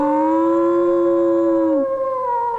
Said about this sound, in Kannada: ಊಳಿಡೋಕ್ ಶುರು ಮಾಡುತ್ತೆ